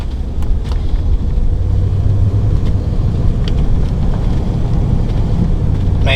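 A 2001 Leisure Travel Freedom 2A widebody Class B camper van with a Dodge 360 engine and 75,000 miles on a test drive, giving a steady loud engine and road rumble from inside the cab, with wind buffeting throughout.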